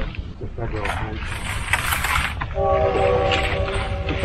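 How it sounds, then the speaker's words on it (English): A train rolls past near a house, a loud rumbling roar with rail clatter that builds and then carries a sustained horn-like tone in the second half, with people talking over it. "Train goes right by my house for the night"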